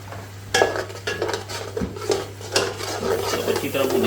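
Finely ground onion and tomato gravy for a mixed vegetable curry sautés in a pan, with a spoon scraping and clinking against the metal in irregular strokes over a low steady sizzle.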